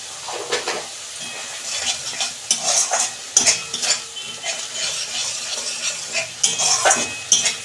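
Spices with black pepper powder being sautéed in a pan: a spoon scrapes and stirs in repeated bursts over a soft sizzle, close and fairly loud, with no one talking.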